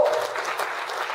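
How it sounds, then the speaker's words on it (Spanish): Congregation in a Spanish-language church service at Iglesia la Cosecha applauds steadily, a dense wash of many hands clapping at close range throughout, with a brief sustained voice tone at the very start. "Un aplauso al Señor."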